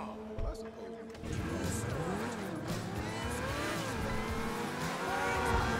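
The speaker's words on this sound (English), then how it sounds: "I spawn a Bugatti." A Bugatti car spawned in a video game drives off with rising engine tones and tire squeals that sweep up and down in pitch, loud and continuous after a brief burst at the start.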